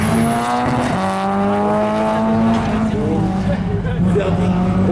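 A Renault Clio CNS development race car on a slalom run, its engine screaming loud and close with rising and falling revs through gear changes, and a sustained high whine over the roar.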